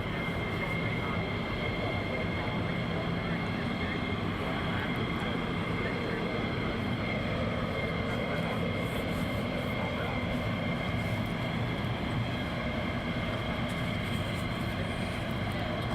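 Military jet aircraft departing from RAF Lakenheath, heard as a steady, loud broadband engine roar that holds through the whole stretch, with a person talking faintly over it.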